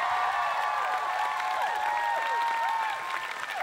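Audience applause for a band at an outdoor summer jazz party, a dense steady clapping wash with ringing tones over it, without pause throughout.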